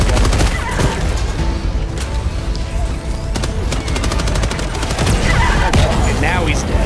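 Loud Helldivers 2 battle gunfire with bursts of automatic fire and heavy booming impacts, layered and chaotic, with a voice talking partly underneath.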